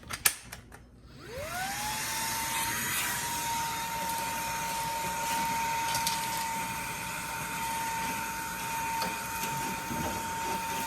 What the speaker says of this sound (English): my vacuum got clogged because there must have been a small piece of plastic